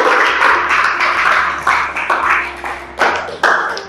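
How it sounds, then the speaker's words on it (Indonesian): Classroom applause for a student named Devina, a short burst of many hands clapping together, close and lively, swelling and fading in uneven waves with a few sharper claps near the end. "Oke, aplaus buat Devina."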